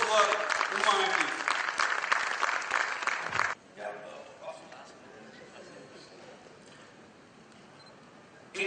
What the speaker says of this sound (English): A big round of applause for Uma, ma'am, please.